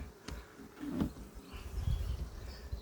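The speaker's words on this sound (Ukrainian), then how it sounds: "Це місцева, залита, місцева наша бджола, чисто місцева." A low, steady buzzing of local honeybees hums close by, swelling slightly midway, with no voices.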